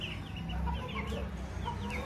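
Hens of three different breeds cluck together on a farm, a close, continuous chorus of overlapping clucks and short calls with no speech.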